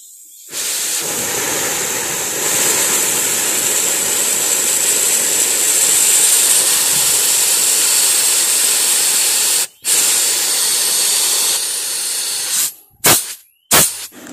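Pressurized spray blasts through the air-conditioner cooling coil of a Proton Exora during a flush, a loud continuous hiss lasting about nine seconds, then cutting off briefly and ending in a few short bursts.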